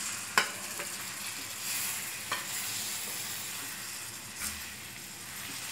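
Pieces of king fish (surmai) frying in a hot tempering for fish curry, a steady close sizzle with a few sharp clinks of stirring and no voices.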